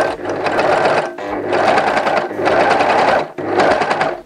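Sewing machine stitching along a basted seam of homemade boxer shorts with gussets, running loud and close in four steady bursts separated by brief pauses.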